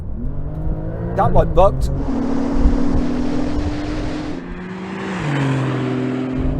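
A Porsche 911 Turbo S launched at full throttle from about 50 mph in automatic mode, a loud rising engine roar with wind rush and a brief gear-change dip, while someone speaks over it at the start.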